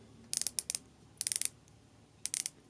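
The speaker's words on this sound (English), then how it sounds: "The bezel is a 120 click rotating bezel." A 120-click rotating bezel on a San Martin SN0121G wristwatch ratchets in three crisp bursts of rapid clicks, close and quiet, with short pauses between turns.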